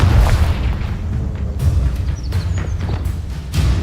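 The Confringo fire spell bursts in Hogwarts Legacy, a heavy booming explosion with deep rumble, followed by further thuds and crackling combat effects throughout.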